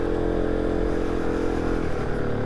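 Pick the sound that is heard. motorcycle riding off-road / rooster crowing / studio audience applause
motorcycle riding off-road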